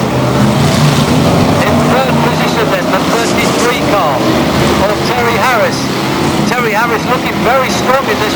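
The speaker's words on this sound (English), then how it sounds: "Mark Williams in the blue car, just passing the pits band now." Racing cars passing the pits during the Badger Memorial event at Bovingdon Raceway, a steady loud engine roar with rising and falling whines as cars sweep by, while a commentator talks over it throughout.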